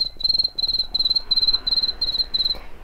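A beatboxer imitating chirping crickets with his voice, eight evenly spaced bright shrill trills in a steady rhythm, close and clear over faint background noise.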